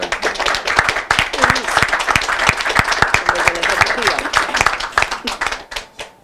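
Audience applause at a Lismore press conference on Medicare Locals: a steady run of close, crisp hand claps that holds for several seconds, then thins out and fades at the end.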